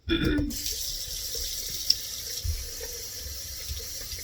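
Running tap water splashes into a sink as a Norwex dust mitt is wetted beneath it, a close steady hiss and gurgle after a brief louder burst at the start.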